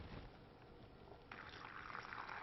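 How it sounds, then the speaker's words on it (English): Brine pours into bags laid over shredded cabbage for sauerkraut, a faint, steady liquid rush that grows fuller and brighter partway through. "And pour the brine in"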